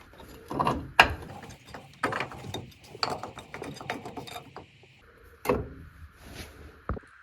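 Bolts threaded into a wheel cylinder on a 1997-2006 Jeep TJ, heard as close, intermittent metallic clicks, ratcheting and knocks at a moderate level, with quiet gaps between.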